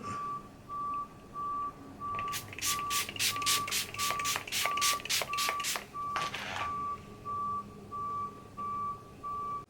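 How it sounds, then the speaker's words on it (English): Reversing beeps from vehicles backing up on a New York street repeat in an even, steady rhythm at moderate distance, broken midway by a burst of rapid honking tones before the slow beeping carries on. "Some cars backing up."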